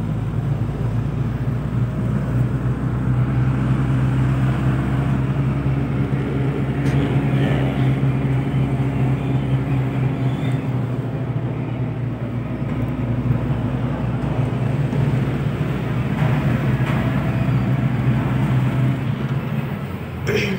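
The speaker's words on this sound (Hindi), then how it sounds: "आज हम जीप में दे रहे हैं, ड्राइविंग सिखा रहे हैं, प्रैक्टिस करवा रहे हैं जीप में" A manual jeep drives along during a driving practice lesson, its engine a steady, continuous low drone with road rumble throughout, with voices talking faintly over it.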